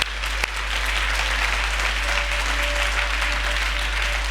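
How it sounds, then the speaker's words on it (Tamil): Church congregation at a Christmas service applauding, a dense sustained roar of many hands clapping that stays even and loud throughout, with one sharp clap near the start and faint tones underneath. "நல்ல கைதட்டு"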